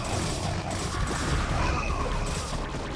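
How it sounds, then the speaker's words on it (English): In StarCraft: Brood War, Zerglings battle Zealots backed by photon cannons, producing a dense, continuous barrage of clashing hits, impacts and blasts, loud and close, with no clear pauses. "these Lings fighting Zealots with cannon support"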